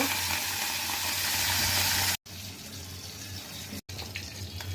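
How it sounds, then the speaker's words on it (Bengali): Prawns frying in a pan give a loud, steady sizzle that cuts out twice for a moment before resuming. "প্রথমে আমরা চিংড়ি মাছটা ভেজে নেব।"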